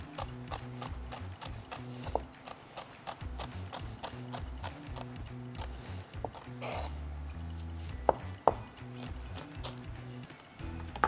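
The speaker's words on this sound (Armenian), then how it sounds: "այսպես բարակ կտրվածքով կտրատում ենք մեր պղպեղները։" Thin diagonal slices of peppers cut with a knife on a board, a steady run of close, crisp clicking chops in a regular rhythm with a few sharper knocks, no talking.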